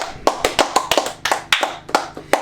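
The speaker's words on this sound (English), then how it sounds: "round of applause" A few people clapping close by, sharp separate hand claps in an uneven rhythm, fairly loud, with no talk over them.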